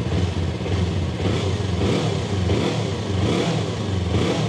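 A Yamaha R25 motorcycle engine revs up close, a dense, continuous roar swelling in a few gentle surges with no voices.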